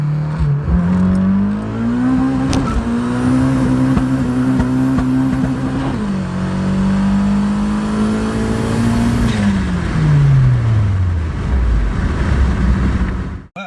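Car with a Honda D16Y7 engine running a locked VTEC cam revs hard through the gears, a loud, close engine note climbing, dropping at a shift and climbing again before backing off.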